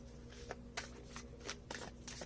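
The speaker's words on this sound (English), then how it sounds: "I immediately start shuffling poorly" Tarot cards being shuffled by hand, a run of quick papery riffles and snaps in uneven bursts, close and fairly quiet with no talking.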